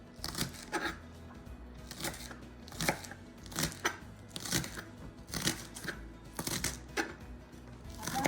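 Knife chopping onions and green stems into small pieces on a cutting board, a steady run of close, crisp chopping strokes in regular bursts with no talking.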